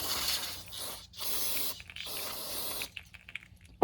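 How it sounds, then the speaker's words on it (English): Several bursts of aerosol cleaner spray hiss up close onto carburetor floats from a Honda Fourtrax TRX 300 ATV, separated by short pauses, followed by faint small clicks and handling noises. "we're going to spray off our floats"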